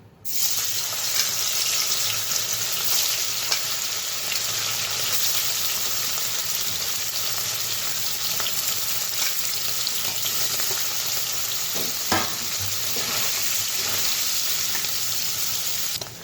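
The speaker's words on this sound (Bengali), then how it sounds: "তেলটা গরম হয়ে গেছে, তো পনিরগুলো ছেড়ে দিই।" Pieces of paneer fry in hot refined oil in a kadai with a continuous, close, bubbling sizzle and occasional crackles, and no voices.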